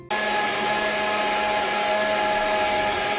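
Mixer grinder blending fruit juice with sugar, kicking on abruptly and then whirring at a loud, steady high pitch close by, with no one speaking.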